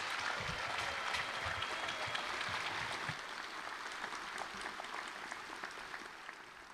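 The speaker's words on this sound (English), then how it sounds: "Let's give them another round of applause." An audience at a doctoral hooding ceremony claps for the graduates, with dense applause that stays full and gradually eases off toward the end.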